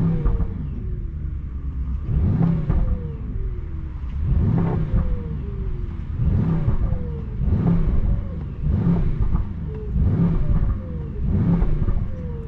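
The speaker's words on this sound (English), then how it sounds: "V8, the engine is running super smooth." A 2025 Mercedes S63 AMG 802 hp V8 hybrid engine revs repeatedly in steady bursts, roughly every one and a half seconds, rising and falling over a deep, rumbling idle.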